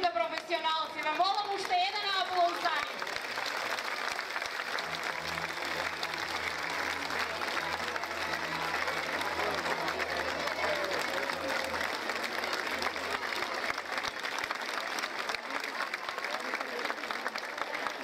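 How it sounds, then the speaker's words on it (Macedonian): An audience applauds after a children's performance at a kindergarten end-of-year show, continuous clapping running the whole time, with a voice talking over it at the start and low music-like tones partway through. "Ве молам уште еден аплауз за нив."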